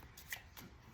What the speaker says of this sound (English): this is also being well shuffled